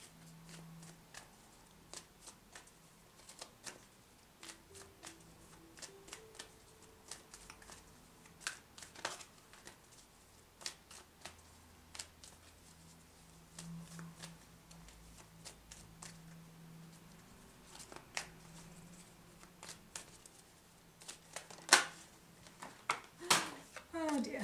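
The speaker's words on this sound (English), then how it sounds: "Dropped all the cards." Oracle cards are shuffled and then dropped, giving a run of soft papery riffles and sharp tapping clicks that come in scattered bursts. The sounds stay quiet and close, with a faint voice murmuring underneath.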